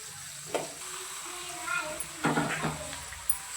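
Onion pieces fry in oil for a village-style chicken curry, giving a moderate sizzle with a few sharper stirring bursts, close by, while a voice talks briefly over it.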